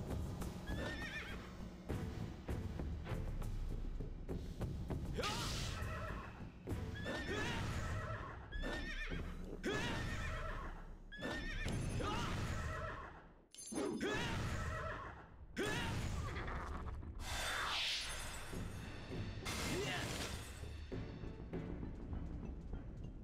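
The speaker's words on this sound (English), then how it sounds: "these horses are quick." Video game horses neigh and whinny repeatedly over steady clip-clopping hooves, loud and continuous throughout with only a brief dip partway.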